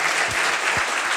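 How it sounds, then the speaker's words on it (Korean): Loud, sustained applause from a large university lecture audience, dense clapping filling the whole moment without any talking. "다시 한번 큰 박수"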